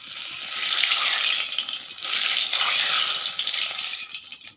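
Fish heads frying in hot oil in a wok, a steady bright hiss of sizzling oil that swells and dips slightly throughout, close and fairly loud with no voices.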